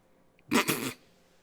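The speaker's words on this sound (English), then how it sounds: "My dog just barked." A single short dog bark, fairly close and sharp, rising abruptly out of near silence and cutting off after about half a second.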